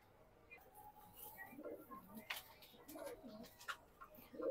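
Racing pigeons back home after a race in hot weather give faint, low cooing calls among soft rustling and scattered clicks, quiet and a little distant.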